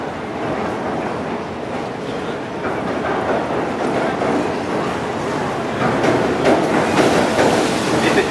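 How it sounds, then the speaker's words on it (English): A train rumbles past on a bridge overhead, heard from a London canal below, with a continuous rolling roar and faint rhythmic clatter, steady and fairly close throughout. "it's just a train"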